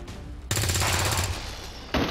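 Sustained burst of rapid gunfire from XCOM 2, loud and close, running for over a second before a brief pause and another shot at the end.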